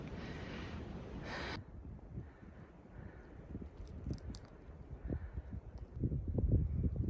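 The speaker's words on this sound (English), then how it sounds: "I don't even know if you can hear me over the wind." Wind buffets and rumbles against the microphone on a mountain trail, gusting unevenly and loudly at close range.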